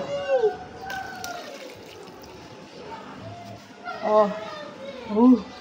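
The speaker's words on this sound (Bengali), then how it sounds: "আমি তোমার গাছে জল দিয়ে দিচ্ছি।" Water poured onto a potted plant, a soft trickle running beneath children's voices that talk over most of it.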